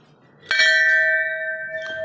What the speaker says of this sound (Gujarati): તો સરસ મજાની થોડીક ઘંટડી મારી દઈ